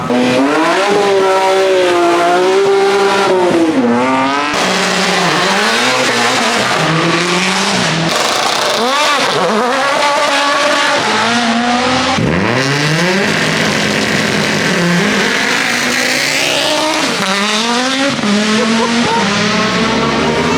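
A race car fitted with a motorcycle engine screams up the Gorjanci hill climb course, loud and close, its high revs rising and falling through rapid gear changes with brief tire squeal.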